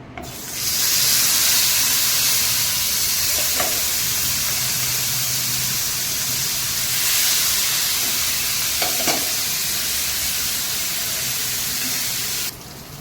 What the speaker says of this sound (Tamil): எண்ணெய் ஓரளவு சூடாயிடுச்சு. இப்போ அதில் நம்ம வந்து அதில் உள்ள சாந்தோடு ஒரு 5-5 பீஸ் எடுத்து போடலாம்.